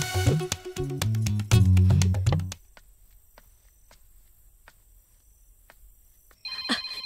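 A phone rings at the end after a stretch of near silence, a short bright burst that follows loud music fading out; no one speaks.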